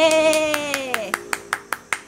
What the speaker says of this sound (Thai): ขอเสียงปรบมือให้ด้วยนะคะ